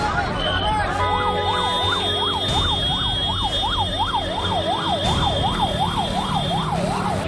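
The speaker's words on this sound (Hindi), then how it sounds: "एम्बुलेंसेस की आप आवाज सुन रहे हैं" Wailing ambulance sirens at the Morbi cable bridge collapse rescue in Gujarat, a steady rising-and-falling tone cycling continuously and loud, with traffic noise and faint voices underneath.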